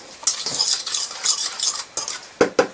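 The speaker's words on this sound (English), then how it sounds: "Now I'm just going to quickly stir this up to combine it." A fork briskly stirs banana bread batter in a bowl, giving quick wet slapping strokes and metallic scrapes against the side, close and loud with short pauses.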